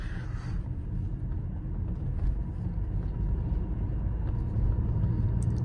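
Car engine labouring in too high a gear, a steady low rumbling drone that holds throughout, fairly loud and close, with no talk over it.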